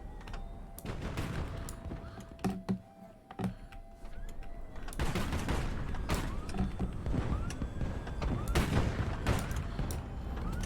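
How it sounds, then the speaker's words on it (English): Rocket volleys launching in the naval-aerial strategy game HighFleet, a series of sharp whooshing bursts and blasts spread over several seconds with mechanical hum and clatter behind, moderately quiet. "Okay, rockets away."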